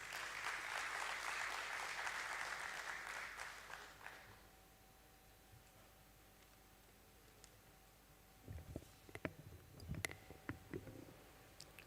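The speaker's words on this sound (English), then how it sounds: "join us on the stage with a huge round of applause." Audience applause at a stock exchange listing ceremony, a broad wash of clapping fading out over the first four seconds, followed by a quiet room with scattered clicks and knocks.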